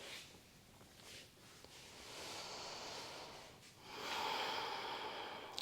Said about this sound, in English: you can take 2 or 3 more breaths here